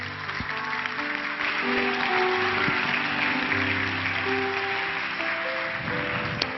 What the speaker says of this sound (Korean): 나오실 때 큰 박수로 환영하도록 하겠습니다